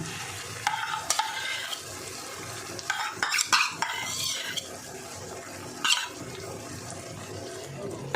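Potatoes fry with spices and whisked curd in a pan, giving a low sizzle under repeated bursts of a spatula scraping and clattering against the metal.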